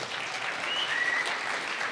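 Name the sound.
audience applause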